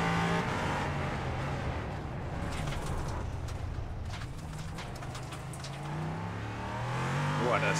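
A race car engine drones steadily at speed from an onboard position, a loud continuous roar with slight shifts in pitch and wind rush throughout.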